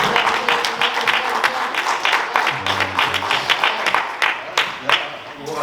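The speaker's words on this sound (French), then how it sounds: "L'applaudissez les secondes encore une fois" A church congregation applauding during an evangelist's service, a loud, dense, continuous clatter of many hands with voices and shouts mixed in throughout.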